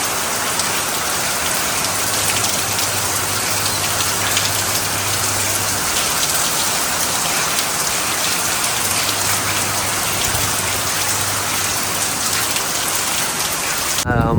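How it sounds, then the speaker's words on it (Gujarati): Steady rain falls over a village in a continuous dense hiss of drops striking surfaces, even and unbroken for the whole stretch, with a faint low hum coming and going beneath it. "થોડે છાટે વરસે"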